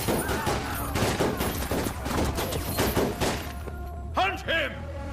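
Gunfire rings out in a dramatic scene from a South Indian action film dubbed into Hindi, a rapid volley of shots and thuds mixed with shouting voices and music.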